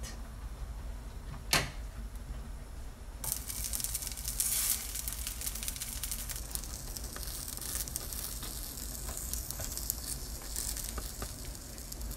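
Moroccan stuffed batbout dough frying in oil gives a faint, steady sizzle and crackle, with a sharp knock early on and a brief rise in hiss partway through, and no talking.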